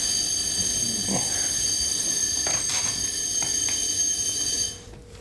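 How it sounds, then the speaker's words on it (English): A building fire alarm buzzes during maintenance testing, a loud steady tonal drone held over a noisy background for several seconds before it suddenly drops away near the end. "Fire alarm testing maintenance."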